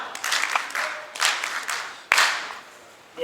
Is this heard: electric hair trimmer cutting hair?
no